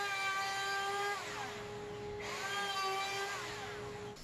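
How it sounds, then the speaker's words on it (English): Plunge router fitted with a half-inch roundover bit freehand-shaping the wooden prongs of a bent-lamination wizard staff, giving a steady high whine that dips in pitch briefly as the bit bites into the wood. "I can use a half inch roundover bit in my plunge router to kind of freehand around the prongs"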